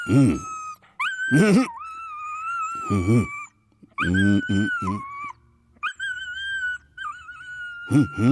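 A dog whimpers and whines in a scene from a Tamil action film dubbed into Bengali, giving drawn-out, wavering cries in separate bursts with short gaps and voices between them.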